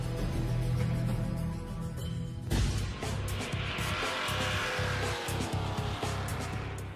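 Race cars roar around a motor speedway, a steady engine drone with a sharp surge midway as a car passes close, loud and continuous without talk.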